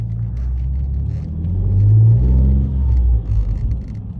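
A Ford Mondeo ST220 on a city street in Sofia, Bulgaria, gives a close, deep engine rumble that swells as it revs, peaks midway, then eases back.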